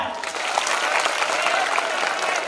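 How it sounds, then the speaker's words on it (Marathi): A college gathering audience bursts into loud, dense applause that fills the hall, with many hands clapping steadily at once and some crowd murmur underneath. "अरे होऊन जाऊ द्या की टाळ्या"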